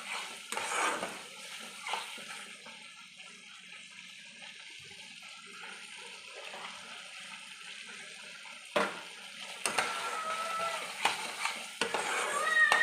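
Chicken is stirred with yogurt and spices in a pan over the heat, giving a soft sizzle with scraping strokes and a few louder spoon-against-pan clatters near the end, with no talking.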